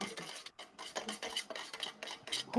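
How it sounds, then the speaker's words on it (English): Rapid metallic scraping and clinking of a whisk beating eggs in a bowl, a steady close rhythm of strokes with a brief pause near the start. "I can hear someone beating their fucking eggs with a whisk"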